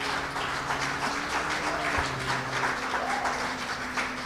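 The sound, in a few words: audience applause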